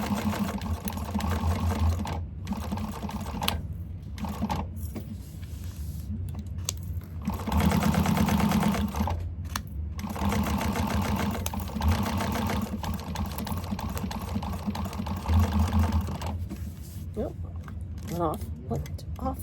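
Sewing machine stitching a pocket onto a candy bag, steady rapid mechanical whirring in several runs with short pauses between, close, with a person talking over it at times.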